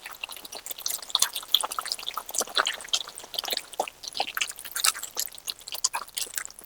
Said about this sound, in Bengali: এখানে আমি আরেকটু জল দেব, যেহেতু ঘুগনি একটু ঝোল ঝোল মতন হয় তো।